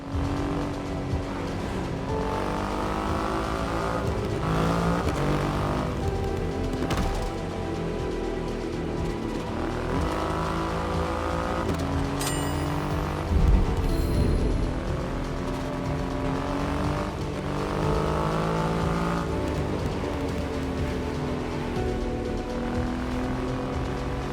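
A Triumph Rocket 3 motorcycle engine in the racing game The Crew Motorfest: a loud, steady engine hum holds with rising and falling revs. A brief sharp burst sounds partway through, and no one speaks.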